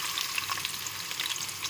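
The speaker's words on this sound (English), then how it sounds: "I will fry till onion is light golden in color." Onion fries in hot oil with cinnamon, peppercorns and bay leaves, giving a steady, close, crackling sizzle with small pops, with no talking.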